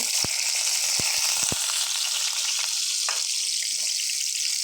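Onions going into hot oil tempered with five-spice seeds for a gourd-peel, bean and potato bhaji, giving a steady bright sizzle with a few sharp spattering pops near the start, close and continuous with no talk.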